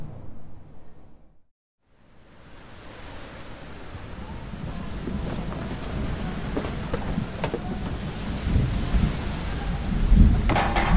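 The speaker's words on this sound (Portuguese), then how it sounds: "Tempestade à vista!" A thunderstorm rumbles in as a deep swelling roar with heavy steady rain beneath it, loud and building after a brief silence, a dramatic storm effect on a sea.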